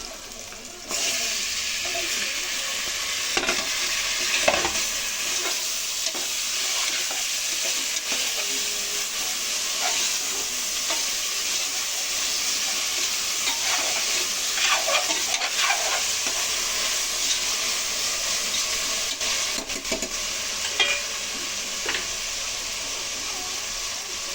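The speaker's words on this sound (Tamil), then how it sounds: "டீப் ஃப்ரை பண்ணிக்கோங்க. நல்லா இன்னும் ஃப்ரை ஆகணும்." Onions deep-fry in hot oil in a pan for biryani, giving a continuous loud sizzle and crackle throughout, broken by occasional stirring scrapes and clinks. No one talks.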